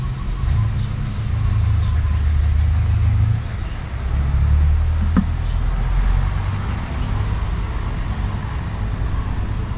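A car engine hums steadily with a low, throaty drone and road noise, holding loud and constant throughout with a brief click midway.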